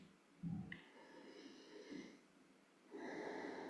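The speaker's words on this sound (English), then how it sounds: "Breathing in and out." Quiet, close breathing in a calm, hushed room: a few slow, soft breaths in and out with faint airy hiss and gentle gaps between them.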